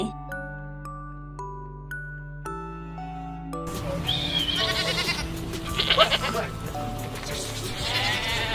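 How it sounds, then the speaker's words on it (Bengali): Young goat kids bleat in a few wavering cries over a children's tune, after a short run of melodic notes. "ছয় ছাগল ছানা লাফিয়ে চলে"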